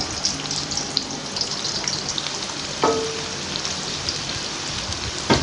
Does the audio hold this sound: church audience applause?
no